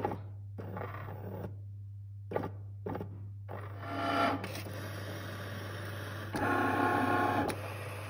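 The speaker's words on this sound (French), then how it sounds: "on va lancer l'impression" A printer prints thank-you cards with a quiet mechanical whir and soft clicks, its motor running in uneven stretches over a low steady hum, growing somewhat busier toward the end.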